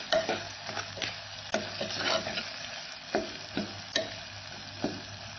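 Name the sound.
curry leaves sizzling in hot oil tempering while stirring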